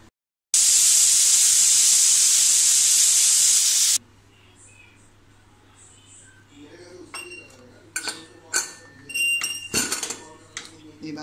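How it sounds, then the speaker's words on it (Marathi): A pressure cooker of black-eyed pea and potato curry lets out a loud, steady, high hissing steam whistle for several seconds that stops abruptly, followed by quieter clinks and clatter of metal utensils. "ह्याला झाकण लावून 2 शिट्ट्या आपल्याला द्यायच्या आहेत"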